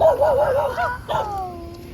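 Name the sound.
dog whimpering for food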